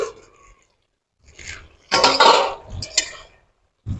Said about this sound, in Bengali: আমি এখন ঢাকনাটা খুলে দেখে নেব।